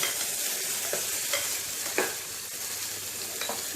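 Tomatoes sautéing in hot oil with ginger garlic paste for mutton keema with chana dal, a steady broadband sizzle with a few soft stirring scrapes spaced through it, close and fairly loud, no talk.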